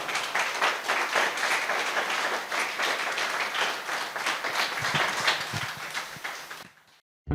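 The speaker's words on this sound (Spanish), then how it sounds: "Dale ese aplauso al Rey," A church congregation applauds the King at the close of a Christian service, a dense, steady wash of many hands clapping that carries on loudly and then cuts off abruptly near the end.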